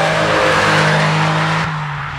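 An Alfa Romeo Brera's 3.2-litre V6 roars loudly and close, a gruff engine note with a rising harmonic that peaks and then begins to ease off as the car pulls away.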